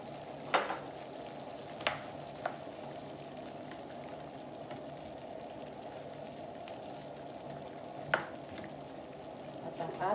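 Eggplant sizzles steadily in a pan for pinakbet while a utensil scrapes and stirs it, giving a few sharp clacks over the continuous frying hiss.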